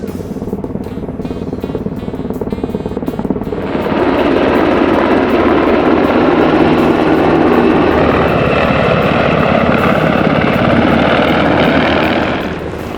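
An army helicopter comes in to land nearby, its loud rotor and engine roar swelling to a steady, dense throb that holds for several seconds before easing slightly.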